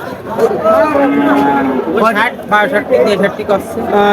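Crossbred bulls at a cattle market moo in drawn-out, wavering calls amid loud chatter and someone speaking nearby.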